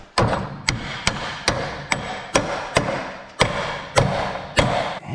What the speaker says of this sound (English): I'm gonna hammer this down, get that flush